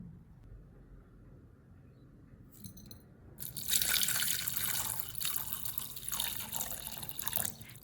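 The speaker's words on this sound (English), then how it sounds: "Before using ginger, I rinse it with clean water and add a little salt." Fresh ginger is rinsed under running tap water with a little salt. The water starts midway, a loud, steady splashing stream that continues to the end with no talking.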